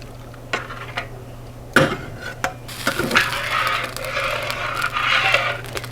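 Metal utensil scraping and clinking against the bottom of a pan while sausage gravy cooks, a few sharp knocks followed by sustained sizzling scraping strokes.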